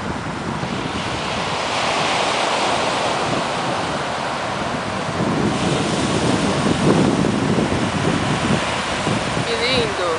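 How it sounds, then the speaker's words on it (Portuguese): Sea waves break on the shore beside a big city, a steady, close, full roar of surf mixed with gusting wind buffeting the microphone, swelling slightly around the middle. "O barulho do mar."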